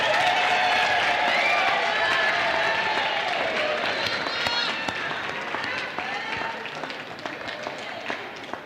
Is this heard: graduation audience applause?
yes